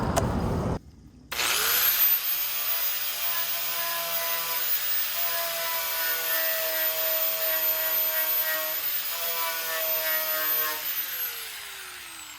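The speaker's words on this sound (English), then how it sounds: "I'm just gonna use the plasma cutter and cut that out. I'm gonna grind a little spot to where I can get a good ground." A grinder works a ground spot beside the taillight opening of a 1963 C10 pickup, spinning up to a loud, steady whine, holding close for about ten seconds, then winding down, with no voices.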